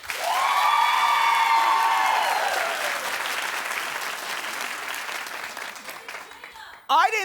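A daytime talk-show studio audience breaks into loud, sustained applause with some cheering, slowly thinning over several seconds before a voice briefly cuts in at the very end.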